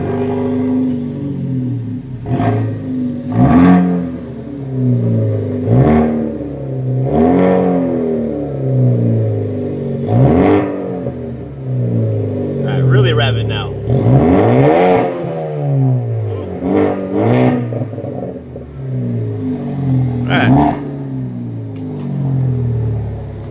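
A 2017 Ford Focus ST fitted with a Borla cat-back exhaust idles with a low rumble, then gets a series of loud, sharp revs that rise and fall repeatedly, close to the tailpipes.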